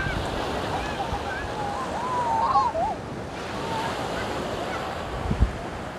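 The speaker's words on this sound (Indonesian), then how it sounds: "ombak yang cukup besar" Steady roar of large ocean waves and wind across a beach near Yogyakarta, Indonesia, with faint voices and calls drifting through the wash of the waves.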